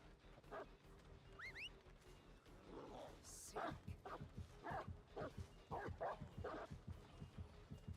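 A dog in the video game Dead by Daylight gives a string of short barks and yips, fairly loud and rhythmic through the second half, along with a brief whine and other game sounds.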